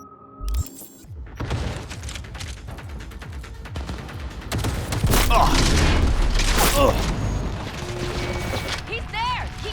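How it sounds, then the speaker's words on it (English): Gunfire in the Cyberpunk 2077 Phantom Liberty video game: a dense, sustained fusillade of shots and booms over mechanical clatter, loud throughout and peaking midway, with voices shouting under the shooting. "Keep shooting!"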